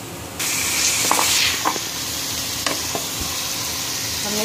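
Garlic sizzles and browns in a hot pan as it is prepared for Arabic chicken stuffed bread, a loud, close, continuous frying hiss with a few light clinks and stirring knocks.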